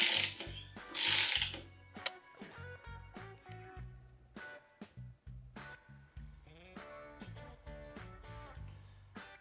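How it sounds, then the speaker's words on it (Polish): Ratchet clicking steadily and close as a bolt is tightened on a luggage rack for a Honda Varadero XL 125 V motorcycle, bursts of rapid pawl clicks broken by short pauses, no voices. "Wystarczy dociągać mocno śrubę."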